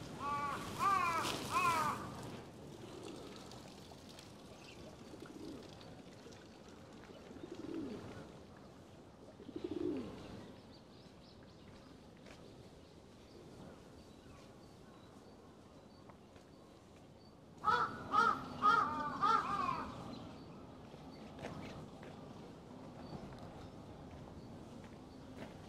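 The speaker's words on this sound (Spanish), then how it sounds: "Ya tiene que venir el cuervo ahí a hacer ruido" A crow caws at a Japanese temple, harsh bursts clustered near the start and again later, fairly close and loud over quiet outdoor ambience with faint footsteps and distant pigeon-like cooing between.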